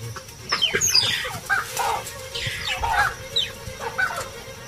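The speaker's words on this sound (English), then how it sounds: "the baboons respond swiftly to their chirping alarm calls" Repeated sharp chirping alarm calls from mongooses, several overlapping in quick bursts, fairly close and loud against a low rumbling background.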